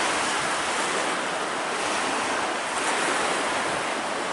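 Ocean waves wash onto the beach at Honeymoon Island, a steady, loud broadband roar of surf mixed with wind buffeting the microphone during a bike ride, with no one speaking.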